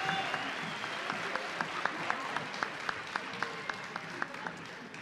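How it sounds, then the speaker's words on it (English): An audience at a middle school honors concert applauds the honor choir with steady crowd clapping and a regular, prominent clap standing out, moderately loud throughout. "One more round of applause for Mr. Campero and the Honor Choir."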